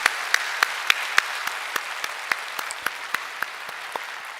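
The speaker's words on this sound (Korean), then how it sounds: "우리 하나님께 감사의 박수 올려드리겠습니다." Congregation applause during a Sunday worship service in a church: a warm wash of hands with individual claps standing out in a steady rhythm, moderately loud and continuing throughout with no talking.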